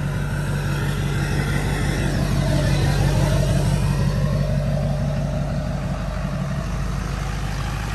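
A 2005 Chevy 2500 Silverado diesel truck with 187,000 miles idling, a steady close low engine rumble with a constant pulsing drone and no pauses.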